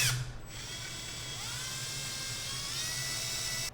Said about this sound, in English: let's go ahead and drill some holes